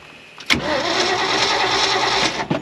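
An old V8 Ford Econoline van, parked in the woods for 36 years, cranks briefly and then catches, its engine running loud and steady close by for about two seconds before cutting out abruptly.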